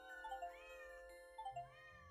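Two electronic-sounding cat meows from a video game, each a short rising-and-falling mew, with a faint tonal background hum between them.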